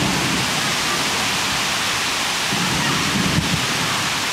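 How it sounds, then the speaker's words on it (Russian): Steady rain falling outdoors on a residential complex, a constant broadband hiss of fairly loud, even patter with no breaks or voices throughout. "Тут дождик капает."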